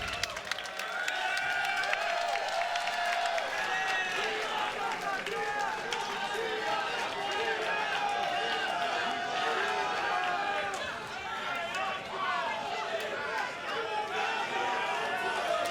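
A large wrestling arena crowd in Chicago roars throughout a pro wrestling event, with constant cheering, chants and scattered clapping forming a dense, sustained wall of crowd noise with excited shouts rising over it.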